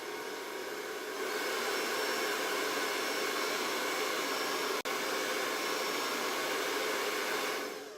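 Handheld dryer blowing on freshly applied paste at a Christmas tree farm, a steady close whooshing hiss that starts after a moment, runs for several seconds with one brief cutout, then trails off.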